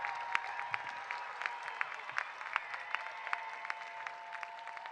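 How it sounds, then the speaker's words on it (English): Commencement crowd applauding at a university business college graduation ceremony, a steady distant wash of clapping with scattered sharper claps and faint cheering throughout. "Yeah, let's cheer it. Clap it up a little bit."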